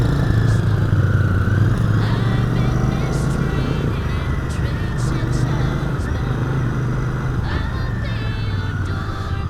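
A Royal Enfield Bear 650 motorcycle is ridden with its engine droning steadily at low revs, the pitch rising and falling slightly, with wind noise over the top.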